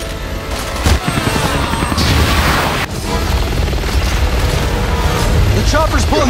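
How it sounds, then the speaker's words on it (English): A helicopter in the video game Resident Evil 6 thumps and roars loudly amid explosions and gunfire, a dense continuous rumble of rotor noise and blasts, with voices speaking over the action. "The chopper's pulling back."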